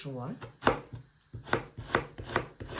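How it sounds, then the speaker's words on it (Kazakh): A knife finely chopping onion on a cutting board, with a brisk run of sharp, close chops, a short pause, then steady regular strokes. "жуамызды майда етіп турап аламыз"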